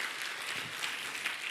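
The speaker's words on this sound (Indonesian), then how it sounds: "Berikan tepuk tangan buat Tuhan Yesus saudaraku." A church congregation applauds during a sermon, a steady, fairly faint wash of clapping from many hands with no break.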